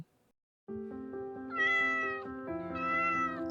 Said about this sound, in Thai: เสียงแมวอีกแล้วเหรอ